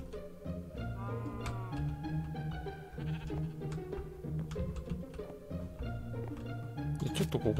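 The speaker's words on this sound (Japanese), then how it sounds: "あ、こっちも羊いるじゃん。" Sheep bleat repeatedly in the Minecraft video game, several wavering cries rising and falling over a busy layer of background game sounds.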